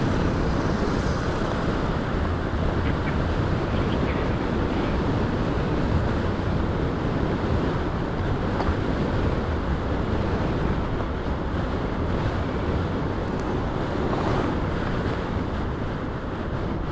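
Strong wind buffets the microphone near Magapit Bridge with a constant low rumble and roar, unbroken throughout, with no voices.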